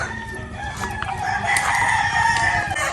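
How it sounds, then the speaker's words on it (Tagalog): Several chickens cluck and a rooster crows nearby, overlapping calls rising over a steady outdoor background. "Ingay naman ng mga manok."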